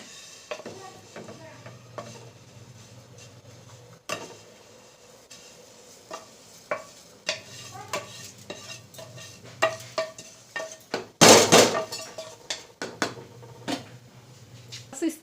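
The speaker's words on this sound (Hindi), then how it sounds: "तो यहाँ पे जो पानी है वो अच्छी तरह से उबल चुका है। अब मैं डालूंगी इसके अंदर ये जो सेवइयां हैं वो।" Dry vermicelli is tipped into a pot of water at a rolling boil and stirred, giving soft scraping and clinking strokes with one brief loud splash-like burst midway, under a low steady bubbling hiss.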